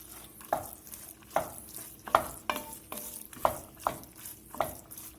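Carrots are tossed into a pan of sizzling Cabernet Sauvignon and stirred with about eight sharp scraping strokes that arrive every half second or so, with a steady frying hiss underneath.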